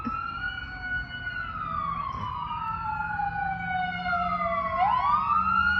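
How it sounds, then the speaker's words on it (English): Emergency vehicle sirens, from a fire truck or police, wail continuously with several overlapping rising and falling tones, growing slightly louder toward the end over a low traffic rumble. "I want to see if we're going to see the fire truck go by, or maybe the police."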